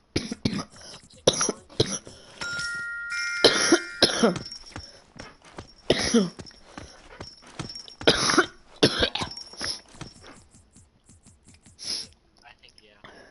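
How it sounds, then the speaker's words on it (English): Someone coughs repeatedly during a podcast conversation, several sharp close bursts scattered among speech. "Sorry, I'm coughing too much."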